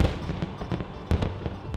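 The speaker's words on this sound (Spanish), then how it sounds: "el cielo de Copacabana se iluminó con fuegos artificiales para darle la bienvenida al nuevo año" New Year fireworks bursting over Copacabana in Rio de Janeiro, a rapid series of sharp booms and crackles at middle distance, several louder blasts standing out against a continuous rumble with no talk.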